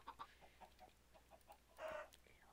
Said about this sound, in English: Oh, I killed a chicken.